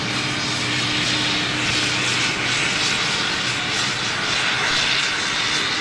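A C-17 Globemaster military transport jet passes overhead near London Gatwick, a loud steady broadband engine roar that fills the whole stretch without letting up.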